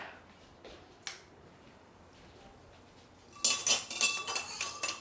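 A metal strainer and utensils clink against a pot while ghee is strained from milk solids, with a couple of faint taps first, then a burst of bright, rapid metallic rattling toward the end, close and with no voice.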